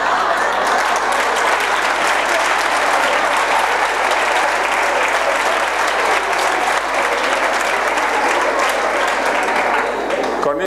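An audience at a motivational talk and concert breaks into dense, loud, continuous applause that fills the whole stretch, steady from start to finish with no break.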